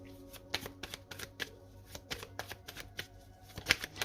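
A tarot deck is shuffled and covered by hand, giving a string of crisp card riffles and soft slaps at an uneven pace, close and quiet, with no speech.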